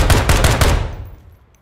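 A rapid automatic gunfire burst in the tactical shooter Ground Branch on a city subway map: loud, close shots for under a second, then a fading echoing tail.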